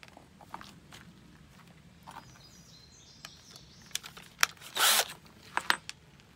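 A trailer hitch is slid into a homemade truck hitch safe, giving scraping, clicking metal-on-wood contacts that build to a loud grinding slide near the end, close up and alone.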